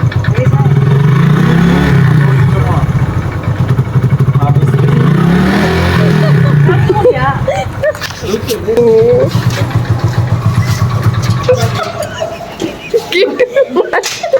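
A motorcycle engine revs and idles up close, rising and falling, as a learner rider gives small bursts of throttle, while people talk and laugh over it.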